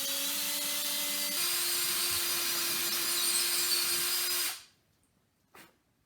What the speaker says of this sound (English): I'm going to drill a hole right here and put a nail in it